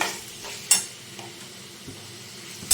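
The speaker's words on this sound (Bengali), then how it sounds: "যে আলু ফুলকপিটা আমি এবার একটু কষিয়ে নিচ্ছি ভালো করে" Potato and cauliflower stir-fried in a pan, an even low sizzle broken by a few sharp utensil clinks and scrapes against the pan, no voices.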